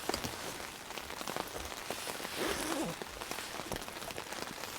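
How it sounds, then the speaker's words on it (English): Rain pattering on a tarp with wind gusting in at a wilderness campsite during heavy rain, a dense, continuous patter of drops close by with no talking. "The wind and the rain starting to come in a bit."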